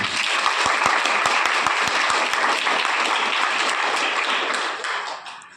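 Loud, dense applause from an audience at a motivational speech fills the space, with a few sharper claps standing out early on, then tapering off near the end.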